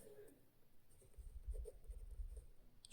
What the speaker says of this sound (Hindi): तो हम लोग चलिए यहाँ पे हम लोग लिखते हैं